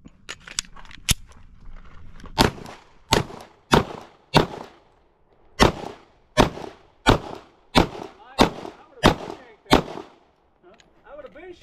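Micro AR pistol with an ABC Rifle Company 5-inch upper firing about fifteen loud, sharp outdoor shots. A quick cluster comes first, then an irregular string of evenly spaced shots, with brief voices between them.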